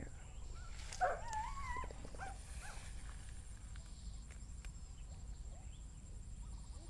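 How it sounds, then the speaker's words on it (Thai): A dog barks somewhere off in the distance outdoors, giving a few faint, brief yelps near the start, followed by quieter ambient background. "เห่าขอความช่วยเหลือนะ"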